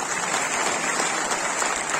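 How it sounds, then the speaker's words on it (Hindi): An audience applauds loudly at a university ceremony, a dense, continuous roar of many hands clapping at once with no pauses. "अरे यूनिवर्सिटी को बधाई देना, तालियों तो जोर से बजा"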